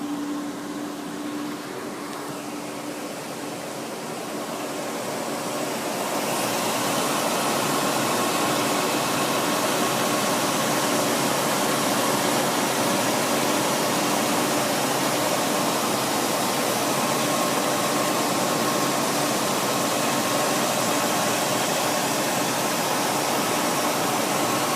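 A 1962 Cadillac Coupe deVille's engine idles steadily with a smooth, even hum, growing slightly louder after the first few seconds and running continuously without talk.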